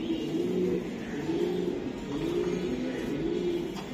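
Racing pigeons on a farm coo in low, repeated rolling calls, several overlapping phrases close by in a steady rhythm with no talk.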